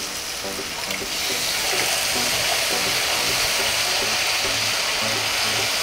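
Water poured into a pan of simmering kofta gravy, a steady broadband splash and hiss that swells after the first second and holds loud and even to the end.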